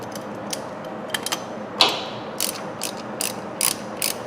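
Sharp ratchet clicks come in short bursts, with a louder clank near the middle, as a bolt on a starter motor is snugged up by hand in a quiet garage.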